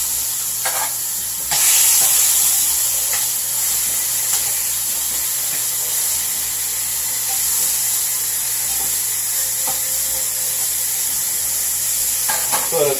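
Bacon-wrapped goose pieces sizzle steadily in a hot oiled pan, a continuous close frying hiss that jumps louder as they are laid in and holds throughout, with faint scrapes.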